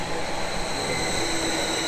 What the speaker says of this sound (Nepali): ट्रेन आयो नम्बर 48